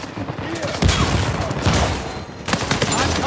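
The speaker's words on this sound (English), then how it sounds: "Holding that trigger, praying for the best, bro." Rapid bursts of automatic rifle fire from a held trigger in Uncharted 4 multiplayer, dense loud crackling shots in two clustered volleys with a brief lull between, no talk.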